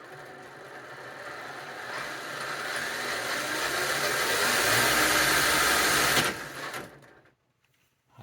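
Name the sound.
Hobbywing Axe R3 motor and gear mesh on RC crawler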